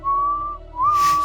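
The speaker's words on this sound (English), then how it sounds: "Whistling on the wind." A person whistles a steady, clear sustained note that dips briefly and then slides back up to hold the pitch, close and alone.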